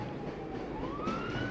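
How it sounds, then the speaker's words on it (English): Sirens inside the Half-Life video game, a steady wailing tone that slowly rises in pitch, heard faintly beneath a busy, noisy game soundscape. "I think it will still pick up the sirens."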